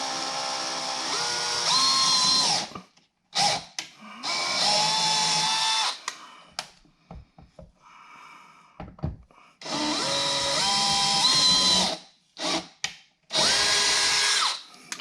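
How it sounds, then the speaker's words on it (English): A power drill whines in several bursts of a few seconds each, drilling holes in a Ford Mustang's diffuser, separated by short pauses and handling clatter, close up and loud. "you're going to go ahead and drill two holes"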